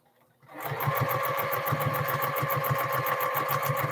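A sewing machine starts up after a brief quiet moment and then runs in a steady, rapid mechanical rhythm, close and alone, as it stitches a quilted tote bag.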